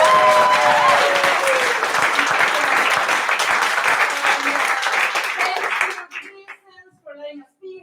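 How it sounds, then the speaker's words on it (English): An audience at an improv comedy show applauds loudly and steadily for several seconds, then the clapping dies away quickly into a quiet room with a few voices and scattered sounds. "Let's first have a big round of applause for Tech."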